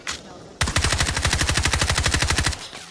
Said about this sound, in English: I shot 12 bullets straight at him.